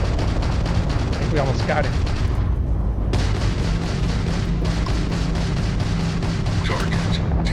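A spaceship fires missiles in the video game Starfield, with a dense run of loud, rapid booms and blasts throughout while a person talks over them.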